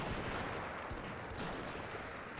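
Massed matchlock gunfire from the samurai strategy game Shogun 2: Total War, a dense, continuous crackle of volleys blending into a steady distant battle roar.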